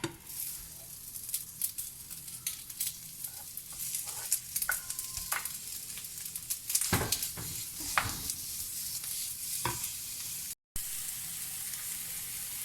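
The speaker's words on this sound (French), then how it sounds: "Je vais faire revenir les escalopes." Escalopes sizzle and crackle steadily in a hot frying pan, with close, continuous frying noise and occasional sharper pops and scrapes.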